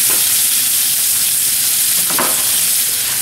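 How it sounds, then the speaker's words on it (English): A sirloin steak laid into a hot pan sizzles loudly and close up, a dense continuous hiss with a brief flare of crackle midway and no voices. "Now I'm going to take the steak, lay it on over here in this pan"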